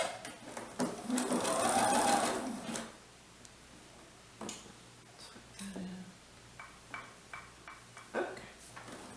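A sewing machine stitches a quarter-inch seam on a quilt-as-you-go project, making a close, steady motor whir for about two seconds that then stops, followed by faint ticks and small handling clicks.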